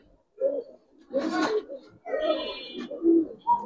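Giribaz and coloring pigeons coo in a few short, close, throaty bursts, mixed with other bird calls and brief background voices.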